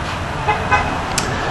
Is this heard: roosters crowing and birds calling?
no